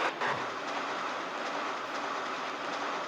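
A GT4N tram rolls past on rails, a steady, loud broadband rumble with faint clickety-clack that stays close for the whole stretch without talk.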